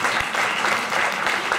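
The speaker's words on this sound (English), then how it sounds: "Give her a little round of applause" Dense, steady applause from a crowd, loud and continuous throughout.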